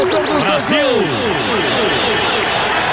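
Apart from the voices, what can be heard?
stadium crowd applauding a substituted player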